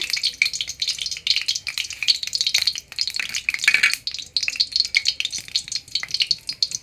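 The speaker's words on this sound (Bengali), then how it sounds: "এদিকে আমি তেল দিয়ে দিয়েছি, এবার আমি কড়াইতে দিয়ে দিব ভাজার জন্য" Pitha fry in hot oil in a wok, giving a steady, crackling sizzle close by with frequent popping bursts and occasional light utensil clinks.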